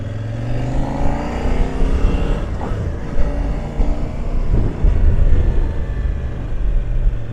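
A KOVE 800X adventure motorcycle accelerates on the throttle, its engine note rising and falling in loud, close surges over steady wind rumble, with no talk.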